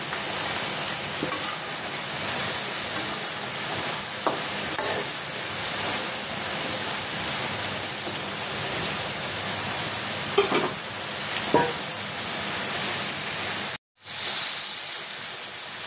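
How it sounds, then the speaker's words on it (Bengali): Fried koi fish going into a pan for a jhol with taro, with steady loud sizzling and hiss throughout, a few sharp clinks and spatters, and a brief dropout near the end. "তো এখানে ভাজা মাছগুলো দিয়ে দিচ্ছি।"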